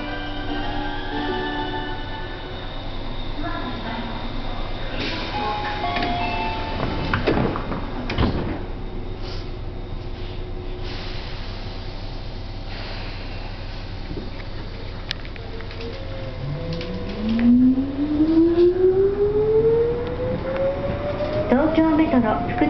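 A Tobu 9000 series subway train departs Shibuya station on the Fukutoshin line, its motor whine rising steadily in pitch over a constant rumble, with clatter and a door thud before it accelerates.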